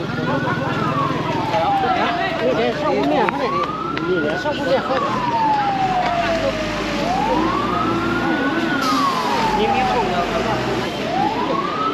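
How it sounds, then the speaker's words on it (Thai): A rescue vehicle's loud wailing siren rises and falls in long sweeps, close by, over steady traffic rumble, at a house fire in Sainyabuli Province, Laos. "รถกู้ภัยมาอีกคันหนึ่งเลยทุกคน"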